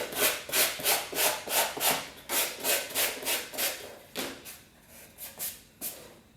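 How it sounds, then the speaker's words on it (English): Sandpaper of 120 grit rubs back and forth over seam filler on foam cosplay armor, roughly fifteen steady, close scraping strokes in a regular rhythm that slow and soften toward the end, with no talking. "you may actually want to use a finer grit than 120 because I am totally grinding into the foam"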